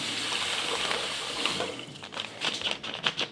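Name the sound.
granulated sugar being poured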